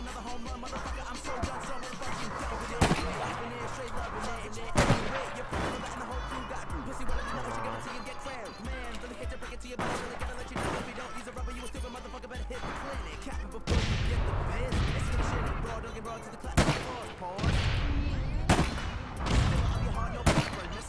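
Gunfire in the online shooter APB Reloaded, sharp bursts and single shots, including shotgun blasts, crack out at irregular intervals over game ambience, with someone talking over the action.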